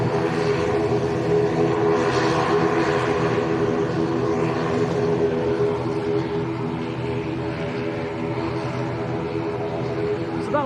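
An Iberia airliner from Madrid rumbles at Lanzarote's Arrecife airport, a steady broad roar of jet engine noise holding throughout without a break, fairly loud and close.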